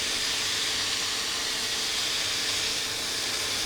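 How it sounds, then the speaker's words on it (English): Chicken and bacon sizzle in a frying pan with a constant, dense hiss that holds steady throughout, close and fairly loud with no talk over it. "I'm very aware this is a bit noisy, but we are frying, aren't we?"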